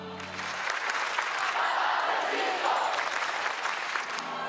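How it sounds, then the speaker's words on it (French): A young crowd cheering Pope Francis at World Youth Day in Portugal: sustained loud applause and roaring voices that swell and hold steady throughout, with musical tones faintly underneath at the start and end. "ces jeunes qui acclament avec ferveur François"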